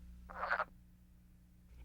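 A single frog at a vernal pond gives one short, rattling croak, close and clear, followed by near silence with faint low background hum.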